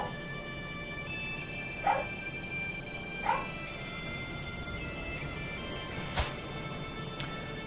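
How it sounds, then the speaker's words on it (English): Dogs bark and yip faintly in the background indoors, giving a few short, separate yelps spaced several seconds apart over a steady low hum. "Sorry about the dogs"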